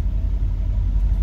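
A 2012 Mercedes S63 S-Class with 201,000 km being driven, a steady deep low rumble inside the cabin with no talk.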